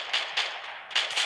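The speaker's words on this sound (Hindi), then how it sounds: "गोली चली, गोली चली।" Gunfire in the Free Fire battle game, four quick muffled shots spaced unevenly, thin and mid-distance, with no talk over them.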